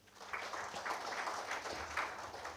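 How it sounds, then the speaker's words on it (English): A conference audience applauds during an afternoon session, fairly quiet, steady patter of many hands lasting a couple of seconds without speech. "Let's give him a round of applause."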